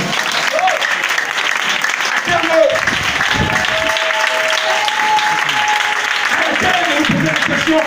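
A church congregation claps and cheers loudly and steadily, with voices shouting and talking over the applause throughout.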